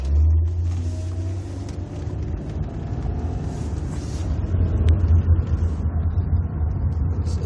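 A 2002 Nissan Maxima SE on the move gives off a steady low howl from the front right of the car, droning continuously over road rumble with no talking.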